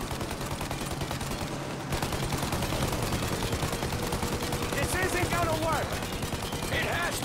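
Rapid, dense gunfire aimed at a plane's engines in Mafia: Definitive Edition, a loud unbroken stream of automatic shots with engine roar beneath and brief voices over it.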